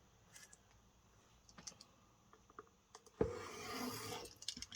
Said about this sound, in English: I'm just going to trim this rough edge down.